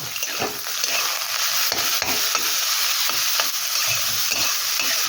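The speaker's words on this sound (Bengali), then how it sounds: "ক্যাপসিকাম কুচি টমেটো কুচি দেব গ্রেট করে রাখা আলু দেব গ্রেট করে রাখা পনির সমস্ত কিছুকে ভালো করে মিশিয়ে নেব" A paneer, grated potato and chopped capsicum filling with carrot and tomato is stirred and gently sizzling in a frying pan, with steady scraping strokes of a spoon or spatula, close and continuous.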